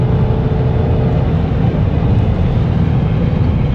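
A stage 3 tuned diesel engine in a Ford Focus MK2 roars loudly and steadily under hard acceleration, a dense, continuous low rumble with no talking.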